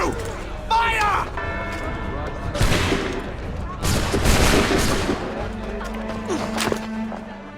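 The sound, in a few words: musket volley fired in video game Assassin's Creed III cutscene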